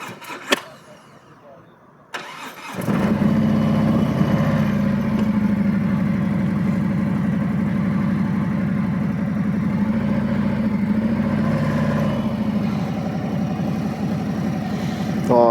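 Harley-Davidson motorcycle engine starting up after a quiet moment, then idling with a steady, close, low rumble that runs on alone for over ten seconds.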